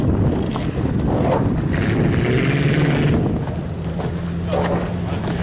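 Demolition derby mod cars rolling in at a Buffalo derby, a steady low engine rumble with a faint droning tone, moderately close and continuous, blended with wind buffeting and outdoor background noise.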